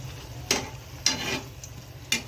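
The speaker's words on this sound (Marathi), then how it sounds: "तर अशा पद्धतीने आपण सगळे बटाटा भजी तळून घेणार आहोत" Potato bhaji frying in hot oil, heard as three or four short bursts of crackling sizzle over a quiet background hiss, with no voices.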